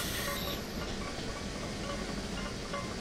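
Union Pacific Challenger steam locomotive running in Train Simulator Classic, a steady faint hiss and rumble of the moving engine with light rail clatter, continuous and without talk.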